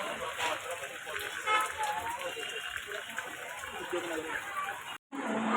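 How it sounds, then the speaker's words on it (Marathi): Steady rain falling outdoors, a constant hiss of drops filling the scene, with faint voices mixed underneath. "हे बघा गाईस पाऊस पडतो"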